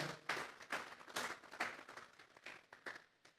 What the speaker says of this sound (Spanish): Vamos a darle un aplauso a Dios en esta hora.